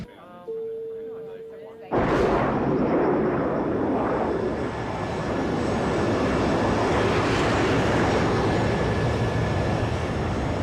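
Airliner cruising in flight: a soft chime tone, then a sudden, loud, steady roar of engine and cabin noise that holds for the rest of the clip.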